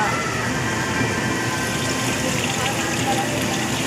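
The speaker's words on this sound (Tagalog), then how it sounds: "Ang galing naman nila meron pa silang falls" A small waterfall splashes into a catfish pond, making a steady, close, rushing wash of water that holds unbroken throughout.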